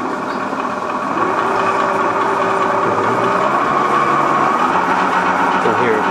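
A 36V Apache ride-on toy vehicle's electric motor whirs and rises in pitch as it accelerates to full speed, a continuous close hum with a faint whine and no voices over it.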